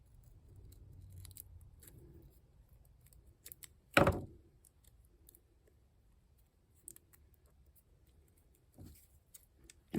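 Scissors trim a handmade DIY monocle charm in a quiet crafting space. One sharp, close snip stands out, with a second softer cut later and faint small clicks between them.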